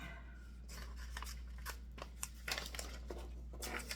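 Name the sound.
scissors cutting paper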